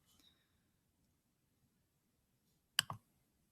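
A computer mouse gives one crisp double click near the end after a faint click at the start, with near silence in between.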